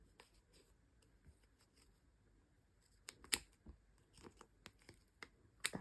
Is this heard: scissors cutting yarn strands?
yes